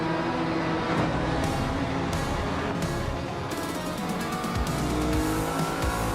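A 1990 Toyota Supra races in a video game, its engine droning steadily at speed with tire squeal and brief skids cutting in, loud and continuous with no talk.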